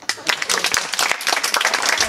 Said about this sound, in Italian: Un applauso a Giada.